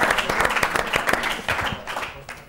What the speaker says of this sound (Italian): un bel applauso, fatevelo.